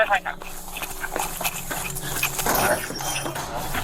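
A police dog whimpers and pants during a forced entry into a garage, short whines and breathy pants mixed with loud, urgent voices and commotion close by.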